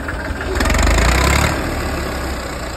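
Tractor engine idling at a tractor-mounted restaurant in Amritsar, a close, loud mechanical rumble that swells briefly in the middle then settles back to a steady idle.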